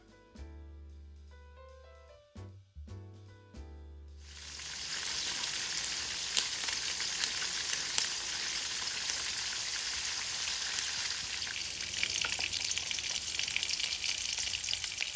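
Chopped garlic and onion hit hot oil in a pan and burst into loud, dense sizzling that holds steady after a few seconds of quieter tapping and clatter, with no voices over it.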